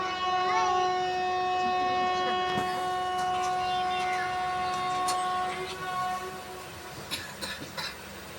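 Circar Express (17644, Kakinada Town to Chengalpattu) on a busy rail journey, with a steady rolling rumble and sustained tonal hum throughout, a few sharp clicks and knocks, and the level dropping slightly toward the end.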